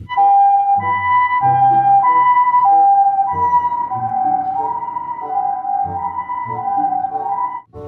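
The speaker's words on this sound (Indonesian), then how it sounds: "Mobil ambulan, teman-teman." A toy ambulance siren wails in a steady electronic two-tone pattern, loud and close, cycling repeatedly before cutting off abruptly at the end.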